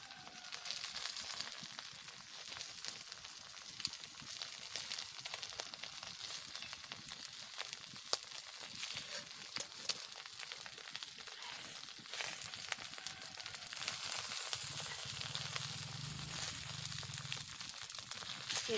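Eggplant fries in oil wrapped inside a banana leaf, a faint continuous sizzle and crackle heard up close without talking.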